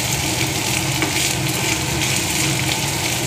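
Potatoes fry in hot oil with red and green chillies and curry leaves, a loud, steady, unbroken sizzle throughout.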